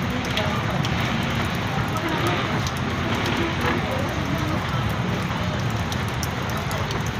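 Strong floodwater rushes through the Pasig Floodway in a steady, loud, broadband roar that holds unbroken throughout, heard outdoors up close.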